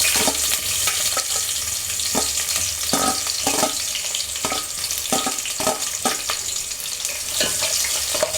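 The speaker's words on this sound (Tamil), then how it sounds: "இப்போ அடுத்து வெங்காயத்தை ஆட் பண்ணிக்கலாம்" Onions sizzle in a pan of oil with cloves, cinnamon, star anise and cardamom, a steady close frying hiss broken by regular scraping stirs of the spoon.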